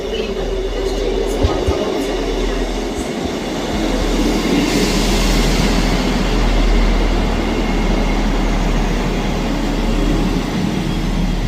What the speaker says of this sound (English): Arriving in now is the 11:29 ScotRail service from Edinburgh Waverley to Leven. 158703.